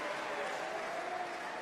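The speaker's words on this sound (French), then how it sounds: "copieusement applaudis par le public lusien" A crowd at a Cesta Punta semi-final applauds the Blue team steadily and generously, a dense, even wash of clapping that holds at a constant moderate level throughout.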